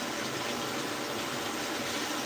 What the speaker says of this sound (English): Let me go real quick, wash my hands.